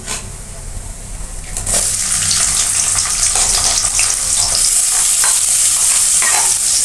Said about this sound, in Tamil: அப்படி பொறிஞ்சு கொண்டிருக்க வெங்காயத்தை போடுவோம்